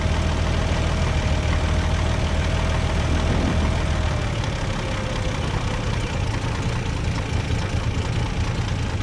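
A pre-war Rolls-Royce engine idles steadily and close by, a continuous low mechanical hum with faint knocking that eases slightly partway through.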